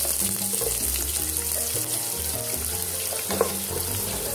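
Chopped onion goes into a pan of frying garlic for a garlic chicken dish, giving a steady, close, broadband sizzle that holds evenly throughout with no talking.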